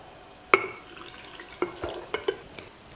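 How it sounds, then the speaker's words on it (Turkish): Water mixed with tomato paste going into a glass jar, heard as a few separate splashes and drips with a glassy ring, spaced irregularly and fairly close. "Salçalı suyu da kavanozun içine döküyorum."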